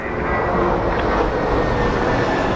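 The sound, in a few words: Embraer E175 jet departing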